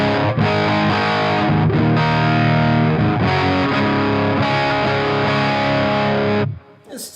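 Electric guitar played through a cranked Marshall Silver Jubilee 2558 combo amp gives a loud, heavily distorted, sustained crunch of chords and notes that rings almost continuously before cutting off near the end.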